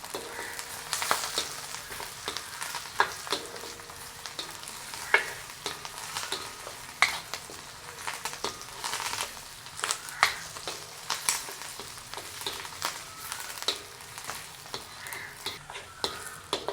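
Mutton curry base sautéing in a pan, giving a steady close sizzle and fry with frequent scraping stir strokes throughout.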